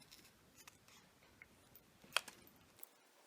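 Scissors snipping through thin plastic cut from a bottle, a few faint, sparse clicks and crisp cuts in quiet surroundings, one sharper snip standing out.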